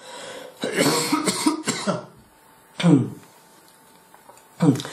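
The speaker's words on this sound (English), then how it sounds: "sorry, bit of a cough there" Several harsh coughs, a cluster of quick ones followed by two separate single coughs with short quiet gaps between, close and fairly loud.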